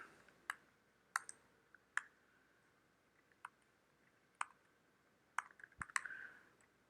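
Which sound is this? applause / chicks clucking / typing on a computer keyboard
typing on a computer keyboard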